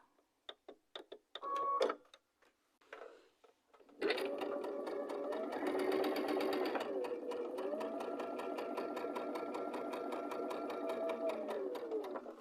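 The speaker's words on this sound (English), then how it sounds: "So let's sew these." A sewing machine stitches quilt block pieces for a bear paw variation block, running in a steady rapid hum for several seconds after a few quiet clicks and fabric handling sounds.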